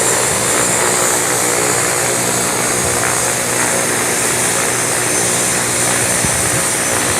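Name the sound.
Tara Air propeller plane at Lukla Airport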